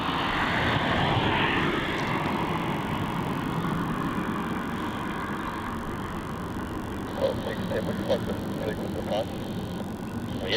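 An airliner landing at Melbourne Airport, a broad low jet roar rumbling steadily at a distance and slowly fading, with a few faint clicks and a brief voice near the start.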